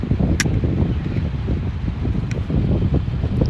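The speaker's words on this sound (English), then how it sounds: "It's really windy, you guys, so it's kind of a problem." Strong gusty wind buffets the microphone on a mountain overlook at the Snow Summit and Bear Mountain ski resorts, a continuous low roar with uneven rumbling gusts throughout and no talking.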